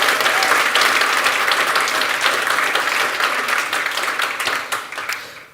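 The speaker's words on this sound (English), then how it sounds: "big round of applause for our last set of partners here" A conference audience applauds, dense and loud near-field clapping that holds steady and then tapers off toward the end.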